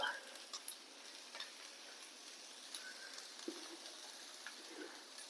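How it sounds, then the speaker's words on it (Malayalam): Vada pav filling with salt and coriander leaves being stirred in a pan, soft steady sizzling and frying hiss with occasional light scrapes and taps, no talking. "നന്നായി ഇളക്കിയെടുക്കുക"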